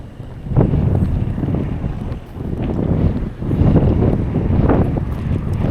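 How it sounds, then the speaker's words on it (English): Strong wind buffets the microphone on an outing in countryside Japan between Awa-Tachibana and Tokushima, a steady low roaring rush with gusts swelling and easing throughout, loud and alone with no voices. "I can tell it's a wee bit windy"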